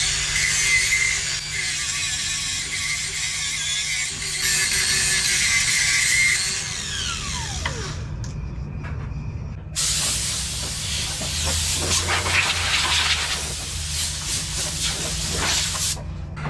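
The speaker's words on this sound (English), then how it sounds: "We used a grinder cut off disc" Angle grinder with a cut-off disc notching an automotive transmission case in a garage, a loud, steady high-pitched whine and hiss that drops out for a moment and then resumes, with a continuous low hum underneath.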